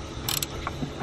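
A 22mm spanner nipping up a tie rod bolt on an E87 BMW 120d gives a couple of brief, close metallic clicks and ratcheting scrapes over a quiet workshop background.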